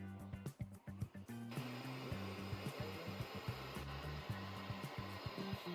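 A turbocharger turbine spins up on a GEO-BOOST-7000 test bench with its actuator set to fully closed geometry, a loud steady whooshing roar after a few choppy starting pulses, with rhythmic mechanical throbbing running underneath.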